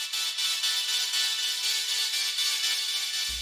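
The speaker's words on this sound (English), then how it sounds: "added a dual delay to kind of make the sound echo" Synthetic FX riser built in Snap Heap with slice EQ and a dual delay echo, a bright hissing, noisy wash that holds steady and pulses faintly with repeats, alone, ending in a low thump.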